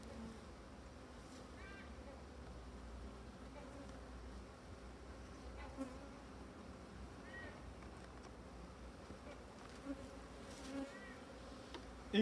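Honeybees buzz around an open hive during a spring inspection of a colony founded in 2021, a faint, steady insect drone with occasional louder passes near the microphone.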